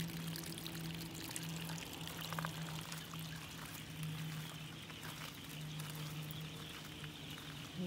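Floodwater trickles and pours down a natural drain carved along a hillside beside a road, a soft, steady running-water sound heard alone and fairly faint throughout.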